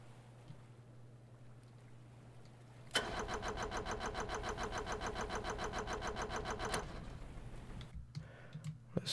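A modular engine built in the Stormworks game starts up abruptly and settles into a loud, steady running drone with a fast, even pulse, then cuts off after a few seconds, leaving a quieter hum.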